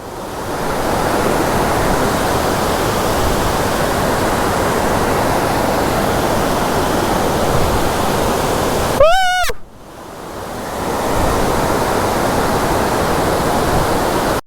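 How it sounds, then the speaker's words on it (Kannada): Vajra waterfall at Arbail near Yellapur roars with steady, dense rushing water close by, a continuous broadband wash broken only by a brief whistle-like tone and a moment of near silence before the torrent resumes. "ವಜ್ರ ಫಾಲ್ಸ್, ಅರ್ಬೆಲ್. ನೀರು ಮಸ್ತಿದೆ ನೋಡಿ"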